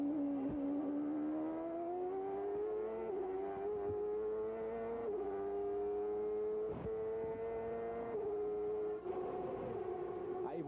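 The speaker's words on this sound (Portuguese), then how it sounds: "Vamos sentir a saúde do motor forte do Christian." A 1996 CART IndyCar engine at Long Beach, onboard Christian Fittipaldi's car, wails in a high sustained scream with pitch dipping and climbing through gear changes, loud and continuous.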